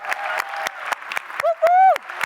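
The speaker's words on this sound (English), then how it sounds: "we can give a big round of applause for that group." Scattered, sparse claps at the Zero Project 2020 award ceremony sound under loud cheering and a drawn-out whoop.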